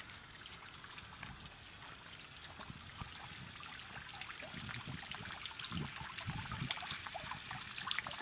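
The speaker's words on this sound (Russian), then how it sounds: "И вода шумит." Steady flowing water near a mini-golf course at Iguazu, a soft continuous trickle and rush like a small stream, fairly faint and unbroken, with no voices.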